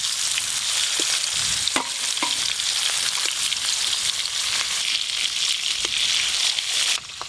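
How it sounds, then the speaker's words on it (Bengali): Pieces of fish belly and roe from a large gold fish frying in hot oil, a steady dense sizzle with scattered pops and a few stirring clicks, close and continuous throughout. "এইবারে যা ভাজা করছি সব পেটি কাটা হলো, ডিম কাটা হলো"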